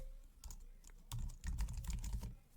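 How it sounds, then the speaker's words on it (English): Quick, close typing on a computer keyboard: a few scattered keystrokes, then a dense run of clicks, fairly quiet with no talk. "You can do that just by clicking next to the page number and just typing in the name."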